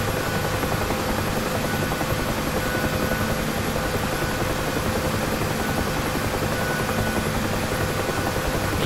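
A UH-1H Huey helicopter in DCS flies a left-hand turn, its steady rotor thump and turbine whine loud and unbroken throughout.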